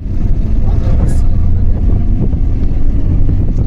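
A car engine drones steadily with road rumble and wind buffeting from inside a moving vehicle on the way to a Karjat farmhouse resort, a loud continuous low roar with no gaps.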